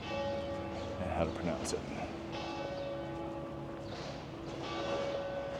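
A church bell rings from a bell tower in Poitiers, France, its steady tone sounding over city street ambience while a person talks nearby.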